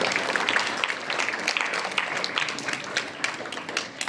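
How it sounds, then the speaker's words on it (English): An audience applauds to welcome a vice principal onto the stage at a Nepali handwriting competition prize event, with uneven clapping that holds steady for several seconds before thinning slightly. "let's welcome him on this stage with big round of applause"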